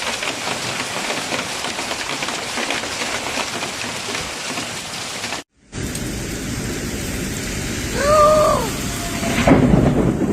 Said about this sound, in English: In some places, thunder and lightning also accompanied the storm.